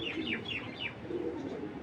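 A pigeon from a prized collection gives a quick run of four short descending calls, then softer low cooing, close but fairly quiet.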